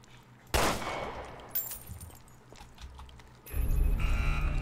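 Gunfire in the survival horror game Resident Evil: Revelations 2, a loud sharp shot bursting out near the start, followed by fainter clatter and a heavy rumbling game sound toward the end.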